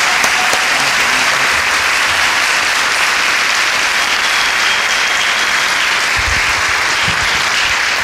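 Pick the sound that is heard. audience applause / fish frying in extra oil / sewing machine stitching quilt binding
audience applause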